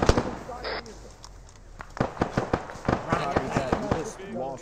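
Rapid bursts of gunfire in the military shooter ArmA 3, near and loud, crack in an irregular string during a convoy firefight, with shouted voices over the shots.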